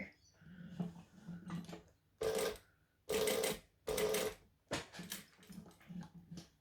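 Sewing machine top stitching around a folded wristlet, three short bursts of rapid mechanical whirring, each a second or less, separated by pauses where a person speaks quietly.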